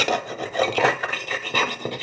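A kitchen knife sharpened at home by rubbing its blade against an abrasive surface, a series of close, scratchy rasping strokes repeating in quick rhythm, with no voices.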